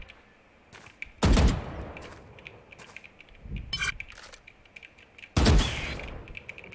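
Gunfire in the tactical shooter Valorant during a match: two loud, sharp shots stand apart, with fainter clicks and game effects between them and no talk.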